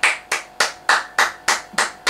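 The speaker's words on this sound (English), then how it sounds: "Big round of applause" Sharp hand claps repeat in a steady, even rhythm, about eight crisp strikes roughly a third of a second apart, close and clear with no voices.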